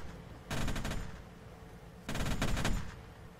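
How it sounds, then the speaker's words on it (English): Video game weapons fire in two rapid automatic bursts, each lasting about half a second, loud and close, with a short pause between them and no talk. "Let me fire some of the weapons, actually, for a second."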